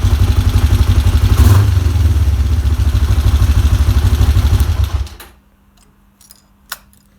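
A Kawasaki GPZ 500S motorcycle engine idling close by with a loud, steady throbbing putter, which cuts off abruptly near the end, leaving near silence broken by a couple of small clicks.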